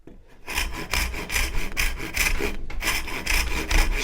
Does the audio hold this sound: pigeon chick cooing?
no